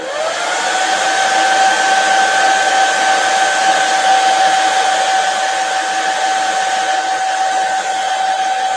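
A hair dryer blowing on stencil paint on a Mylar stencil, a loud steady whirring drone with a constant tonal whine that runs unbroken throughout.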